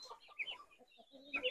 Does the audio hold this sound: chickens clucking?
yes